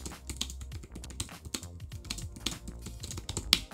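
Rapid, steady typing on a compact Logitech MX Keys Mini low-profile backlit keyboard, dense soft key clicks close to the microphone with no talking.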